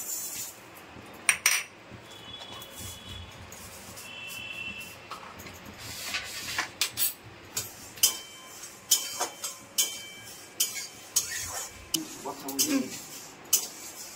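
Black mustard seeds and spices fry in a pan for drumstick pickle, giving sharp scattered pops and metallic clinks that grow more frequent and insistent toward the end, close by.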